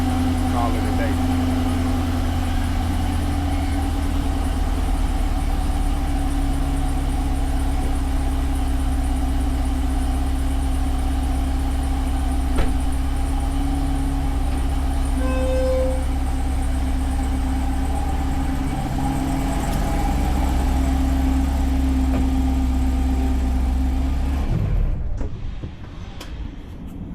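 A Cadillac CT5-V Blackwing idles steadily up close with a deep, even rumble, holding for about twenty-five seconds before cutting off near the end.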